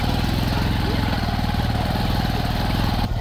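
A two-up motorcycle engine drones steadily and loudly while riding along a hilly road, a close, even mid-pitched buzz with wind noise and no breaks.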